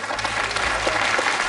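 A game show studio audience gives a short, steady burst of applause for a contestant, dense clapping filling the room without pause.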